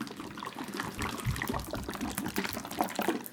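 A bottle of Italian dressing shaken in a home kitchen while making a southwest chicken pasta salad, giving a steady liquid sloshing and gurgling that runs for a few seconds, close and moderately loud.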